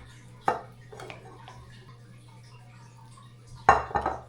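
Ingredients with furikake being mixed in a bowl for Spam musubi: a few distinct clinks and scrapes of utensil against the bowl, one near the start and a louder cluster near the end, over a quiet steady hum.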